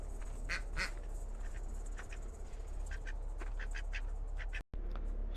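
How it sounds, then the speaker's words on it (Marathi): Several ducks quack in scattered bursts, some close and some farther off, over a low outdoor hum near Chiplun railway station in Konkan. "बदका बघा"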